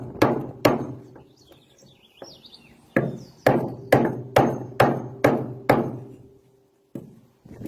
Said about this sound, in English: Beat the other side.